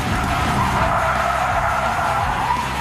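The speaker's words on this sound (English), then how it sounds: "A 180-degree spin out in reverse." A car's tires skid and squeal through a 180-degree handbrake spin-out in reverse, a loud, sustained screech over rumbling engine noise, with no talking.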